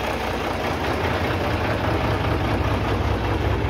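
A Kenworth T2000 truck's diesel engine idles in a steady, loud, close low rumble with an even knocking pulse, with no talk over it.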